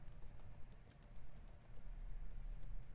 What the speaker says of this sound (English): type in Google Chrome